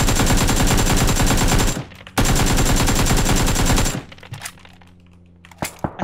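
Automatic gunfire in a PUBG-style battle royale game, two long, loud, rapid bursts of shots separated by a short pause, followed by quieter scattered shots and clicks.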